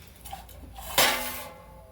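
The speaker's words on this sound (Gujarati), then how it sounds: "ગેસ ઓન કરીને અને આપણે મેગી મૂકી દઈશું ટોપિયામાં" A metal cooking pot clanks once on a gas stove as Maggi noodles go in, a single bright clatter with a short ring against faint room noise.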